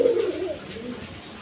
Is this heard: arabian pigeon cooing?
yes